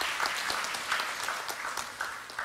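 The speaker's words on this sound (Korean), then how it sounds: "커다란 감사 박수 한번 부탁드려요" Applause of thanks from the audience at a Korean welfare policy forum, a steady roomful of clapping with individual claps poking through, moderately loud and continuous, without voices.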